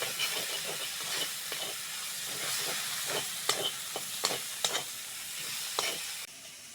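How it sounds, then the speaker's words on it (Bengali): Onion, green chili and gandal leaves fry in a pan with a soft, continuous sizzle and hiss, broken by sharp scraping stir strokes that come more often toward the end. "পেঁয়াজ কাঁচা লঙ্কার সঙ্গে গাঁদাল পাতাটাও ভালো করে ভেজে নেবো"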